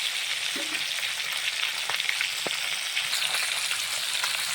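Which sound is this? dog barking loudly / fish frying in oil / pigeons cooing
fish frying in oil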